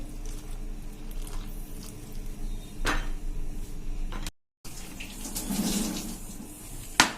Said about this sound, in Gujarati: આપણે થોડું થોડું પાણી એડ કરતા જશું અને લોટ બાંધી લેશું